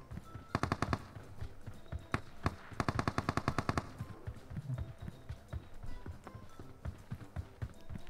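Automatic gunfire in the mobile battle royale game PUBG Mobile: two rapid bursts of shots in the first four seconds, then scattered single pops and movement noise with faint game sounds.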